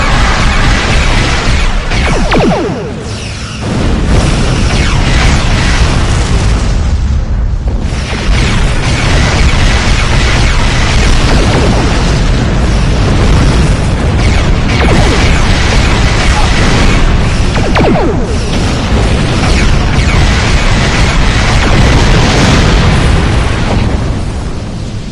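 Enemy ships exploding in Star Trek Online space combat: dense, loud, continuous booming and crashing blasts with a few brief dips, running for around twenty-five seconds.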